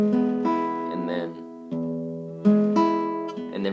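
Fingerpicked acoustic guitar pattern for a Mexican ballad, plucking strings one at a time in a steady arpeggio over sustained chords, close and moderately loud, with two clear changes of chord.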